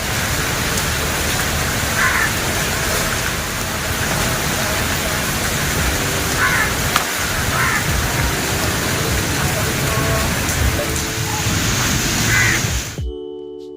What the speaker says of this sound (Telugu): పొద్దున్న లేచేసరికి ఆల్రెడీ పెద్ద వర్షం పడుతుంది